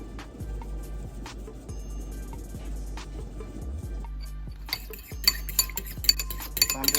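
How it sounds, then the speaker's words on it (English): Vegan eggs seasoned with black pepper and nutritional yeast being stirred in a pan, a run of soft scraping strokes with a low hum beneath, then brighter clinks and taps of a utensil against the pan near the end. "I'm just gonna stir that up."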